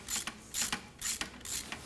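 Ratchet wrench clicking as it loosens a fuel injector on a Mercedes 280SL (W113 Pagoda), four short bursts of crisp metallic ratcheting in steady rhythm, close and fairly quiet with no talking.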